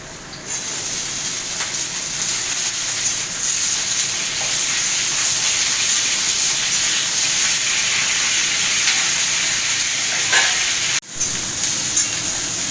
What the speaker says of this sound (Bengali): এই দেখো আলু ফুলকপি ভাজা ভাজা হয়ে গেছে